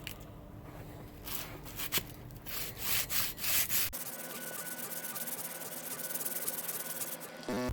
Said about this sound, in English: And this is 220 on a reusable sanding block.